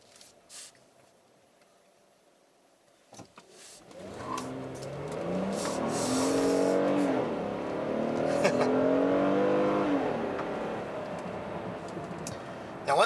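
A 2017 Kia Cadenza V6 engine rises from quiet into a steady, fairly loud driving drone with shifting harmonic tones as the car accelerates, holding strong through the rest of the stretch.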